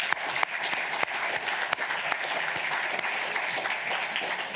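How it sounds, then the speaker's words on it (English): A room full of conference attendees applauds the speakers after a Q&A session, dense steady clapping at moderate distance throughout, with a few louder individual claps standing out. "A round of applause for the speakers,"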